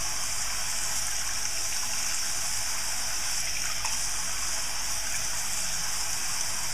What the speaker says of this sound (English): I take my brushes and I first just kind of rinse them in the water.